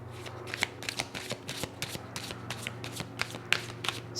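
Cards being shuffled for a tarot-style card reading, a rapid series of soft riffling flicks and slaps close by, fairly quiet and without talk.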